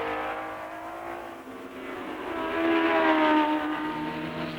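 Race cars at the 1964 British Grand Prix roar past at speed, a sustained engine drone that swells and rises in pitch midway, heard somewhat distant on old archival sound without talk.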